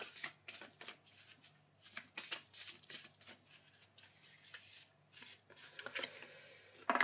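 Tarot cards are shuffled and drawn from a deck close up, a quick run of papery riffles and slides in uneven bursts with short quiet gaps between them.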